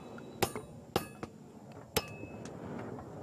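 Metal from a cluster bomb container is hammered into shovels on an artillery shell anvil, with sharp ringing clanks coming in a loose, uneven rhythm, a few louder strikes among fainter taps.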